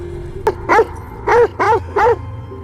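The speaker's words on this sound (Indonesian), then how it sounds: "Dogi penjaga muncul dan langsung menggonggong padanya." A guard dog barks four times in quick, fairly close succession, each bark loud and distinct over a low background hum, with no talking.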